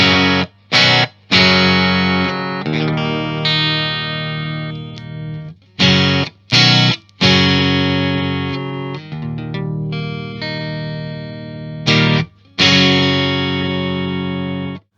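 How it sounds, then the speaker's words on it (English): A Telecaster electric guitar through an amplifier's clean sound on the classic gain channel plays chords and short phrases separated by brief silences, each chord ringing out bright and sustained, close and fairly loud. "This is the clean sound that I've dialed in on the classic gain channel."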